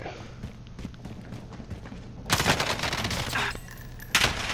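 Gunfire in the Warzone video game, a few sparse shots followed by two loud bursts of rapid automatic fire, close and sharp, with faint game background between them.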